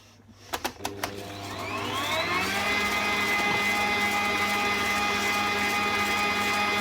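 After a few sharp clicks, a mixer spins up and settles into a steady, loud whirring hum while it whizzes a small batch of three-ingredient biscuit dough, with no voices.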